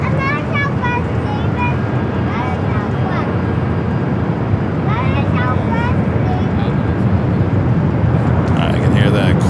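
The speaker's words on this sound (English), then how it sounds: "I can hear that Queen taking off on the south side, Western Global." A Boeing 747 takes off at Los Angeles airport, a loud, steady jet roar that holds throughout under a radio voice talking over it.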